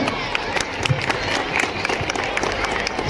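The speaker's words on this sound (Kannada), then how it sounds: "ಎಲ್ಲ ಸದಸ್ಯರಿಗೂ ಒಂದು ದೊಡ್ಡ ಚಪ್ಪಾಳೆ" Crowd applause and scattered cheering at a Rotary Club marathon event in KGF, with a lively, uneven patter of many hands and some crowd noise mixed in.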